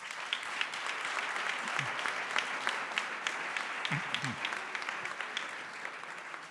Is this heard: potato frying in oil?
no